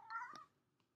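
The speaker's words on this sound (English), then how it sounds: "that was my cat, Mochi" A cat gives a single short, faint meow, quickly fading, with a tiny soft sound afterward in a quiet room.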